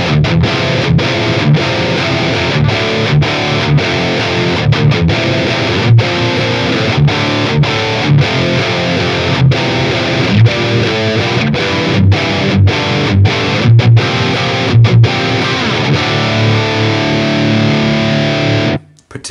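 A loud, sustained distorted electric guitar playing a lead line with the mids turned fully up, saturated tone and brief gaps between phrases, ending abruptly.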